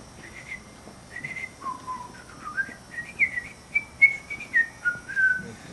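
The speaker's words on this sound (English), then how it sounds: "my first musical experiences come from whistling." Someone whistles a melodic tune alone at a bluegrass school demonstration, with clear sustained and sliding notes at steady volume that build in emphasis toward the end.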